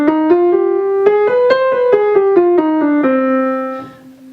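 A minor scale played on piano, single notes stepping up and then back down in an even rhythm, each tone clear and close, ending on a sustained low note that fades out.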